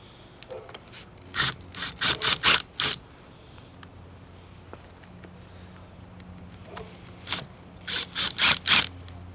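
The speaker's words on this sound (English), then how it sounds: "Now you need to get the 10mm socket with the impact and take out these 2 bolts." An impact wrench fitted with a 10mm socket removing bolts on a Honda Trail CT90 top end: two clusters of sharp, rapid rattling hammer bursts, each a few short quick pulses, separated by several seconds of quiet workshop background.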